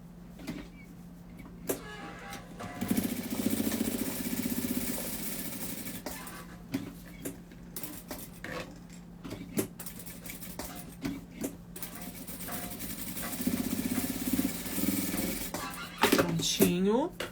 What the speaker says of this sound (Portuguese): Agora, eu vou costurar aqui, ó, no entrepernas